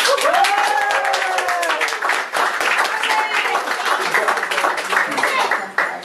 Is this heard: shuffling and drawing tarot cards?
no